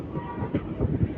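The Hubballi Express, an ICF-coach passenger train at Lingampalli station, gives off a close, steady low rumble with a few short clanking thuds and no voices.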